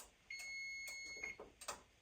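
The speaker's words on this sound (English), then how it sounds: "So the timer went off" A kitchen timer goes off while a seafood boil cooks, giving a few short, faint electronic beeps in quick succession over a quiet room.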